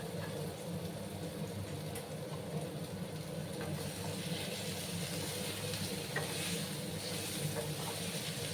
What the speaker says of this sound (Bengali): একসঙ্গে আমি আলু আর কাঁচা কলাগুলোকে আবার ভাজবো।